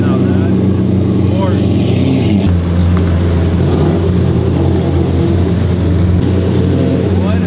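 A Lamborghini Aventador SVJ supercar pulls away on a vintage supercar rally, its loud, close engine a steady deep roar that swells as it accelerates.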